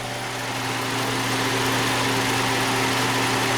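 A Honda car's A/C compressor running with its clutch engaged, a steady droning hum with a low engine-like tone beneath broad hiss, continuous and close, with no talking.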